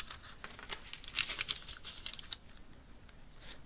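Patty paper being folded in a geometry lesson makes faint, close crinkles and soft rustling bursts, sharpest near the middle, with no talking.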